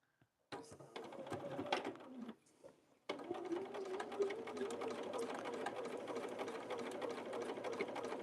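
A sewing machine stitches fabric scraps together for a stained-glass-style project, starting up with a rapid whirring chatter, pausing briefly, then running steadily and close for several seconds.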